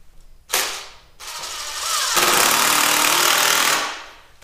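A power drill drives 2.5-inch construction screws into a rodent breeding rack: a short loud burst of whirring, a pause, then a longer sustained drive that winds down at the end, close and loud.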